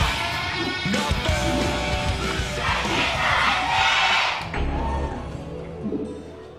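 Fans at a StarCraft pro league match between SK Telecom and 8th Team roar, chant and shout together in a dense, loud wall of sound that stays steady across the clip, with no commentary over it.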